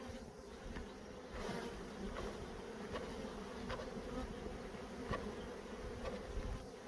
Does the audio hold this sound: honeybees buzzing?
yes